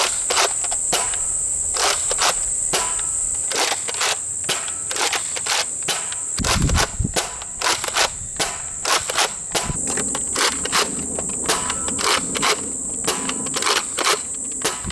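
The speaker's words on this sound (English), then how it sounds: "So now here's a quick firing demonstration of the Rival Apollo" A NERF Rival Apollo XV700 blaster fires a long series of sharp, snappy shots at an irregular, fairly quick pace, each a crisp near click-pop over a steady high insect-like hiss in the background, with no talking.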